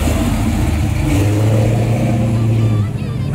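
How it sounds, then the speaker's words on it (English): Car with a Hemi engine at a large cars-and-coffee meet, giving a loud, deep rumbling rev that holds then eases off, heard close with crowd noise and voices around it. "That's got a Hemi in it for sure."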